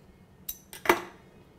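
An oboe reed shaper being handled: a few short metallic clicks and clinks, close and fairly quiet, with one sharper clink near the middle and no talking.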